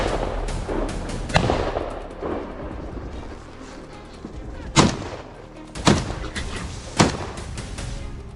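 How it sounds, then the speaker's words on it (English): A burst of sharp gunshots at wild boars, several rapid cracks early on, then three loud, spaced booming shots ringing out over a rumbling background. "A volley of gunfire tore through the silence loud, relentless and final."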